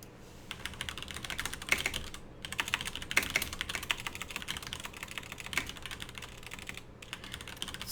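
Fast typing on a computer keyboard: close, crisp clicks in irregular bursts with brief pauses, alone and fairly quiet.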